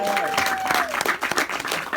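Audience applause at a 40th birthday roast, a crowd clapping loudly with a few cheers and overlapping talk mixed in throughout.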